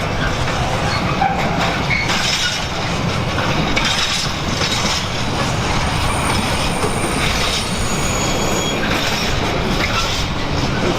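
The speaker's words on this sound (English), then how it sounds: "you will hear the trains going over the joints of the switches" A long container freight train rolls steadily through a railway junction at Leamington, its wagons rumbling and clattering over switch joints with occasional wheel squeal, a continuous loud roar throughout.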